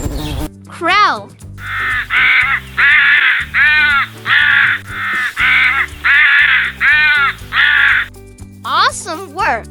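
A crow caws about nine times in a quick, loud, evenly spaced series, with a voice briefly speaking just before and again right after.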